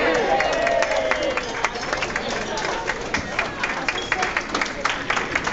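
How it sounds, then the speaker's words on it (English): Guests at a wedding reception applaud after a best man's toast, a steady wash of clapping and crowd murmur holding throughout, with scattered louder claps and cheers mixed in. "keep the round of applause going"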